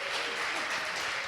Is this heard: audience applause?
yes